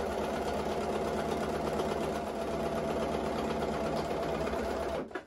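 A sewing machine stitches dress fabric in a steady, continuous mechanical whir with a fast even rhythm, close and fairly loud, stopping abruptly at the end.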